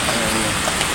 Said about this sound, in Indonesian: Namun tidak lama kemudian hujan turun dengan derasnya guys.